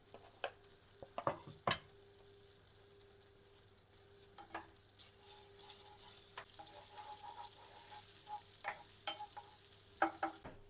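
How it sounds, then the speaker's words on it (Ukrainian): Chopped garlic frying in a pan for spinach carbonara, a faint, quiet sizzle broken by scattered sharp clicks and scrapes of stirring. "Чесник буду підсмажувати до золотистого кольору."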